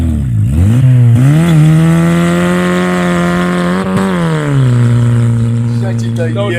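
A Škoda Fabia revs hard while burning rubber and spinning its tires, a loud, close engine roar that climbs and holds at high pitch for several seconds before easing off.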